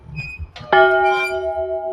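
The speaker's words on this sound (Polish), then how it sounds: "Dzwon się rusza, a w środku dusza się nie rusza. I zaraz uderzy." A single strike of a historic church bell in a lakeside village rings out loud and close, its metallic tone sustaining and slowly decaying after brief talk and movement beforehand.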